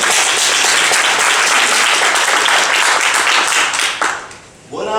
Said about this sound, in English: Can we get a round of applause, Miss Smith?